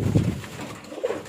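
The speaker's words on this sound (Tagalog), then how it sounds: "Malakas yung ibon eh." A pigeon coos in low, soft throaty notes, close by, a brief call repeated twice.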